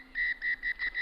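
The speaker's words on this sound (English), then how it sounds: "it's the full-time whistle as well" A referee's full-time whistle at a rugby match between Japan and Tonga junior sides, several short shrill blasts in a rapid rhythm, clear against quiet background.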